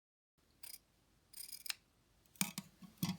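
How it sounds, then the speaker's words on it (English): Scissors snip around all four edges of a piece of fabric for an octopus craft, a few separate crisp cuts in short bursts with quiet gaps between them, close by and alone with no talking. "Once you've had all your sides trimmed or snipped"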